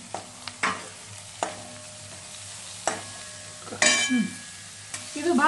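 Onion greens sizzling in hot oil in a home kitchen pan, a steady low fry broken by several sharp stirring scrapes and clinks of a spoon, with a brief voice near the end.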